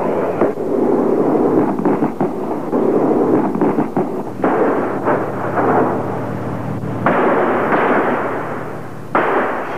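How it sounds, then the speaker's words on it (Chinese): Sustained, rumbling artillery bombardment from the Sino-Vietnamese border war, a heavy, continuous barrage of booms rolling over one another at full loudness, with sharper blasts surging near the middle and end. "我首先在那拉、八里河、东山等方向对敌实施重点炮击"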